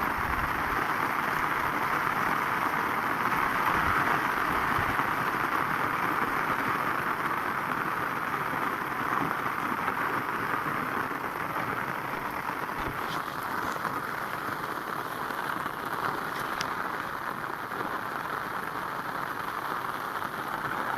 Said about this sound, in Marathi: आता पावणे नऊलाच पाऊस सुरू झाला आमच्याकडं जंगलात